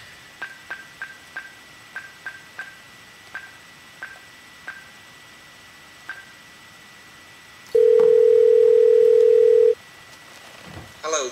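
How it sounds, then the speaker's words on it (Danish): Telephone dialing with a burst of touch-tone key beeps at an irregular pace, followed by a steady continuous dial tone lasting about two seconds, then a faint voice at the end. "Jeg ringer til ham"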